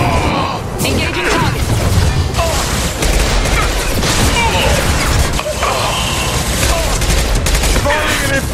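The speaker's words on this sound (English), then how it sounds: "Firing an impact gun" An impact gun firing in the Mass Effect 2 video game: loud, rapid bursts of gunfire with crashing impacts and mechanical clatter running throughout a sustained combat sequence.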